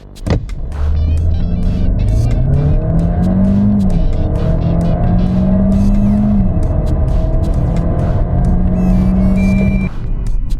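A 2025 Audi Q3 with a 150-horsepower engine revs hard and climbs through several gears, each rising whine dropping at the shift, loud and close with no talking.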